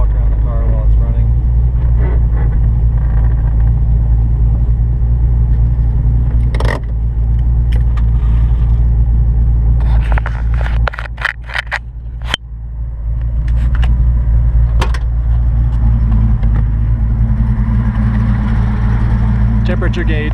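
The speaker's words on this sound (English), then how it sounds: "Now we'll just walk around the car while it's running." A 1985 Saleen car engine idles with a loud, steady low rumble heard up close during a walk around the running car, broken by a few short clicks and jangles, and a person talks over it.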